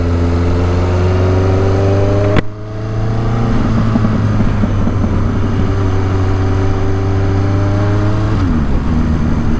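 A 1983 Suzuki GS 1100E custom motorcycle engine drones loud and steady while riding, with a sharp gear shift partway through and the pitch climbing gradually before easing near the end.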